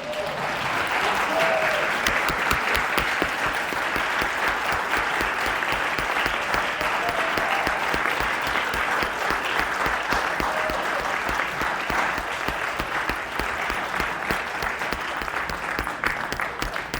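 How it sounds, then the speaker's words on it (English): Sustained audience applause, a dense steady wash of many hands clapping at even loudness throughout, with no pauses and no voices rising above it. "Okay, now you can applaud."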